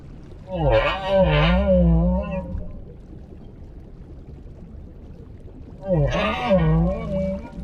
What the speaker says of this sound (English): The humpback song is a powerful form of communication.